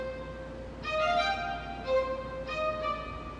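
A piano picks out the lead melody of a TV theme, single clear notes in a slow phrase with pauses between groups, played alone and fairly close.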